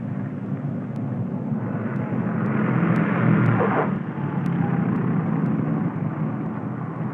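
Twin engines of a Lockheed P-38 Lightning fighter plane on landing approach with the throttle retarded: a loud, steady broadband drone that swells near the middle and then settles back, with no talking.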